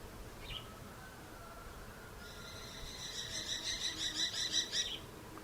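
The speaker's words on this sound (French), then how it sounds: "Entendez les oiseaux." Outdoors in quiet nature, a bird gives a rapid pulsing trill that rises and then stops, moderately close over a steady soft background hiss, with a brief chirp just before it.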